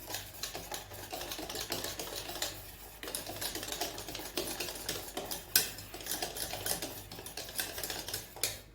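Semolina being stirred by hand into a bakery-style cake batter in a bowl, giving a steady run of close, light clinking and scraping strokes with no one speaking.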